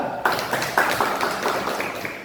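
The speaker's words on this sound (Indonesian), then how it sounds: "tepuk tangan untuk kelompok 2" Classroom of students clapping for a presenting group during a lesson, a moderately loud, slightly uneven patter of hands lasting a couple of seconds.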